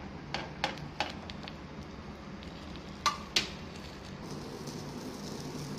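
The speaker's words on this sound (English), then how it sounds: "Now place the fish on the grill pan." Breaded pomfret fish frying on a grill pan gives a faint, steady sizzle, broken by a few scattered crackles and pops and one or two sharper spits, with no voices.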